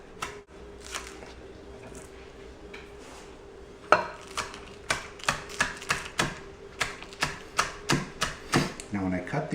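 A knife chopping fresh chives with straight cuts on a board for twice baked potatoes: quiet at first, then a quick regular run of sharp taps close by, with a faint steady hum underneath.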